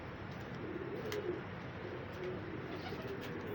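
Pigeons coo softly as grain is scattered for them on a rooftop, low throaty calls repeating amid a steady wash of outdoor background noise, with no talk.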